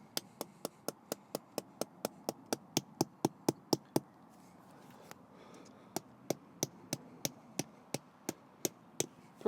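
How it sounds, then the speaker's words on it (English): Sharp metallic hammer strikes driving tent pegs into the ground at an angle, in a steady rapid series, about fifteen blows, a short pause, then another run of evenly spaced hits, close by. "inserting the pegs at a 45-degree angle and hammer that in nicely"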